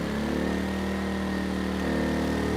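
ERAYAK 4500W dual-fuel inverter generator running on propane under a 3,000-watt load, a steady droning engine hum at close range with a slight shift in pitch partway through.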